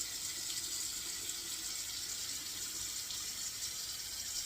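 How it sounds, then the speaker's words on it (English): Water pours out in a steady, soft hiss, fairly faint and continuous throughout with no talking. "dump the water out slowly here."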